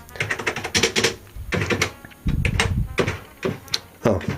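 Keys on TheC64, a modern Commodore 64 replica computer, are pressed in quick bursts of sharp plastic clicks, with brief pauses between them and a voice speaking faintly in the gaps.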